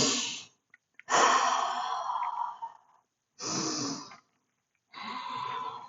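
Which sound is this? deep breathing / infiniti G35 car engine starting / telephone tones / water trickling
deep breathing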